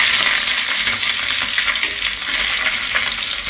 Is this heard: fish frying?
yes